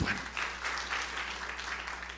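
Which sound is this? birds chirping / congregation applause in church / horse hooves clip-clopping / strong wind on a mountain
congregation applause in church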